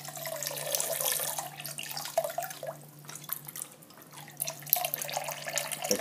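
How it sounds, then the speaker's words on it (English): Water running and trickling into an automatic vivarium drainage system made from hardware-store parts, a steady close splashing flow with small drips, alone with no talk. "once your water rises above the adapter, it will start draining by itself."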